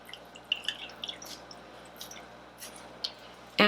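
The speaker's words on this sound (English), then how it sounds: "And then I'm just going to pour butter over the top." Butter and broth sauce poured over Cornish hens in a pan: soft scattered drips and wet splatters, quiet and close, ending in a sudden louder burst of liquid.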